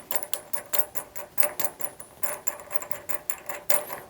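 A bolt on an industrial machine, being fitted with a servo motor, is loosened by hand, giving faint, close, rapid rhythmic clicking and ticking throughout.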